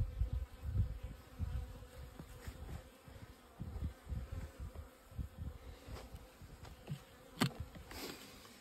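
Honey bees buzz steadily inside a hive during snowy winter weather, a close, continuous insect drone with scattered louder rises and brief crackles.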